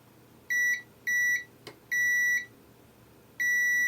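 A multimeter continuity tester gives a high electronic beep four times while testing a faulty Nintendo Switch Lite, each tone about half a second long with short gaps between, clear and near against a quiet background.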